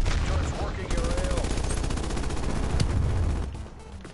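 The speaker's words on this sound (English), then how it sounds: "Multiple hostile sentry turrets working your AO." Hostile sentry turrets firing in the video game Call of Duty: Cold War, a steady loud stream of rapid automatic shots running almost the whole time, with no talk over it.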